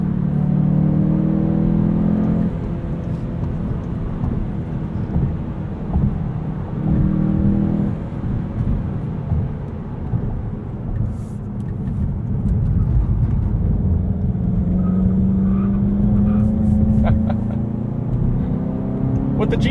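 A 2020 Volkswagen Golf GTI with a six-speed manual, driven in sport mode through a tight 180-degree corner on a chilly morning: the engine drones steadily and rises and falls with throttle from inside the cabin, loud throughout.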